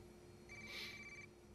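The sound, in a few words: telephone ringing in a video game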